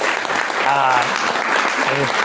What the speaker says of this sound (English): just one more round of applause for Cynthia doing such a great job